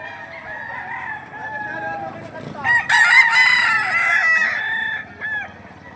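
Roosters crow loudly and close by at a chicken market in Padre Garcia, Batangas, one long cock-a-doodle-doo standing out over clucking and lesser crows, with a faint voice in the background.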